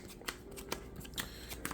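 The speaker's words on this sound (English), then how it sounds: "I'm going to go ahead and pile shuffle this deck here" A Yu-Gi-Oh! card deck being pile shuffled, cards dealt down one by one in quick, soft snapping taps with irregular rhythm, close and quiet, with no talk.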